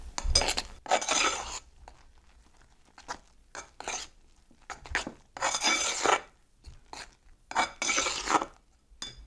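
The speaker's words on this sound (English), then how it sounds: "I'm going to add my powdered sugar to my whipped cream and mix this up" Powdered sugar is mixed into whipped cream with a utensil scraping and rubbing against a bowl in irregular bursts, with quiet pauses between strokes.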